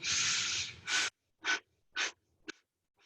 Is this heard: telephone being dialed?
no